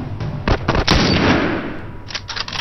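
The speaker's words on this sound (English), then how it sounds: "But that was a bad shot." Gunfire in The Last of Us Remastered video game: a burst of sharp, loud shots crackles in quick succession, followed by a few scattered echoing reports.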